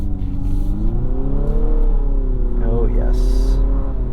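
A 2022 Infiniti QX55 engine revving as the car accelerates, a steady loud drone with rising pitch sweeps, while a person speaks briefly over it.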